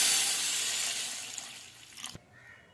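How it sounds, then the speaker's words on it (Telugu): Water runs into a bowl of moong dal for soaking, a close steady pour that fades gradually and ends with a few small splashes and clinks. "పెసరపప్పు 10 నిమిషాలు వాటర్ వేసుకొని నానబెట్టుకోవాలి."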